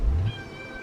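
A kitten gives a single short, thin meow after a brief low bump, fairly quiet and with no talking around it.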